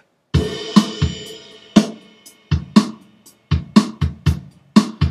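A soft, simple software drummer pattern in Logic Pro X plays alone: sparse kick and snare hits with light cymbal, spaced evenly with short gaps.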